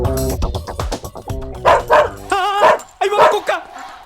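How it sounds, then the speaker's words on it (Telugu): A dog barks and yips several times in short bursts, fairly close, with voices talking over and between the barks. "కుక్క ఉంది అక్కడ"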